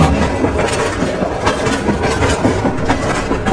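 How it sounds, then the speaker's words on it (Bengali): A train rumbles past close by, steady and loud, with rhythmic clattering of wheels over rail joints and no voices. "এমন সময় কিছু দূরে রেল লাইন দিয়ে ছুটে আসে ট্রেন"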